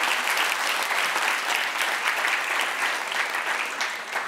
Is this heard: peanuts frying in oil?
no